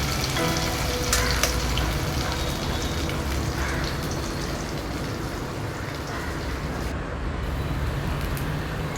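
Okra frying in oil for a crispy dish, a steady dense sizzle with rain-like crackle that holds at an even loudness throughout, no voices.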